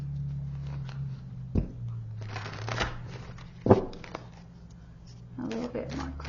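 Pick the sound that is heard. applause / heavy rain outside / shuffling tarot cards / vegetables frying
shuffling tarot cards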